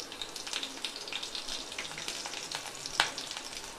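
Garlic, ginger and green chillies frying in a pan for street-style fried rice, a steady close sizzle with a soft stir and one sharper clink near the end, no talking.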